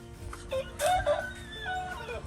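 A chicken, likely a rooster, crows a few short calls among faint background noise and rural ambience, with no one speaking.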